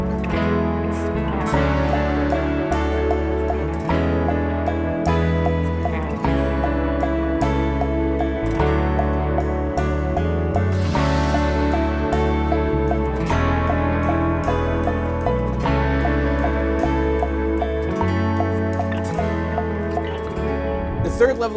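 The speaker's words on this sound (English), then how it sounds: "Quarter notes on the ride with the stick, and maybe eighth note cymbal swells with the weak hand with a mallet." A drum kit plays steady quarter notes on the ride cymbal with a stick while a mallet swells cymbals in eighth notes, a continuous washy pulse at moderate volume throughout.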